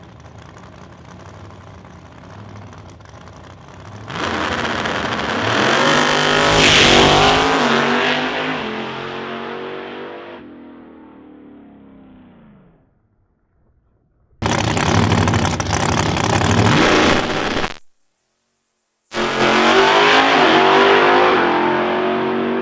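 A radial race car engine fires up after a tune-up, revving hard and loud, then dropping away to near silence before two more sharp bursts of high-revving roar with an abrupt cutoff between them.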